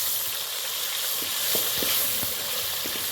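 Onion paste frying in oil with cinnamon and cloves, roasting toward golden brown: a steady bright sizzle with a few soft stirring clicks, close and alone.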